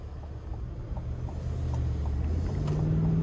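A 2025 Chevrolet Suburban Premier 4WD with its 5.3-liter V8 cruising on the road, a steady low engine drone and tire rumble that grows slightly louder as it picks up speed, heard from inside the cabin.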